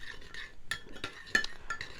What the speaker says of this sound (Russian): Это паприка. Мы ее разведем вот так вот в этой воде